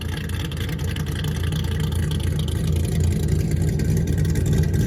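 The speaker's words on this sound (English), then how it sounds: "Hard to beat a cammed LS3 too. I mean, just the chop." A cammed LS3 V8 in a C6 Corvette idles with a loud, steady low-pitched rumble and choppy lope, continuous throughout with no talking.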